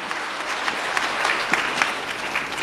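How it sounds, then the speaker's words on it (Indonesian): An audience at a sales seminar breaks into lively applause, a dense steady clatter of many hands clapping throughout. "tepuk tangan yang meriah Bapak Ibu."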